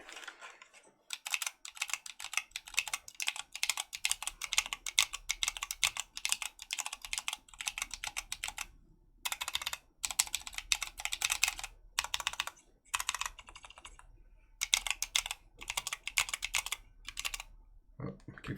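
Rapid, crisp clacking of keystrokes on a Murphpad mechanical keyboard fitted with TECSEE Sapphire switches, close up, in bursts with short pauses for about eighteen seconds.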